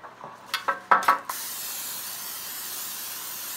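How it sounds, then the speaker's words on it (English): Pam cooking spray hisses onto a baking pan for Irish bread, a few short bursts followed by one longer, steady close spray. "So a little bit of Pam on there."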